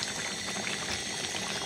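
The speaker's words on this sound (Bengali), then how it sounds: "খুব ভালোভাবে নেড়ে চেড়ে কষিয়ে নিচ্ছি।" Cooked meat is stirred and sautéed with spices in a pot, giving a short, even, hissing sizzle at moderate loudness with no talk.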